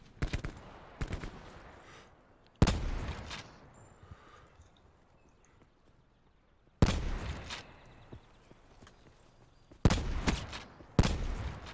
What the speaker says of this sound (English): I'm being shot from west somewhere.